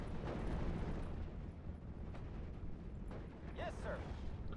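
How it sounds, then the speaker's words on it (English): Mortar shells exploding in Steel Division: Normandy 44, low rumbling blasts and battle noise under a steady drone, fairly quiet, with a voice speaking in the background. "Wait for the mortars to be done spamming their fucking shells"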